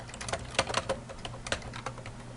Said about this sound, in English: I'm going to hit the tab key on my keyboard